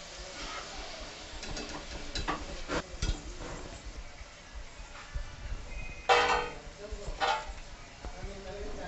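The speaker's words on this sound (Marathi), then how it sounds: "गॅसवर हे बटाटे सुरुवातीला आपल्याला तळून घ्यायचे आहेत। सुरुवातीला गॅसची फ्लेम आपल्याला फास्ट ठेवायची आहे।" Potato slices frying in oil over a high flame, a light sizzle punctuated by stirring scrapes and clinks of a utensil against the pan.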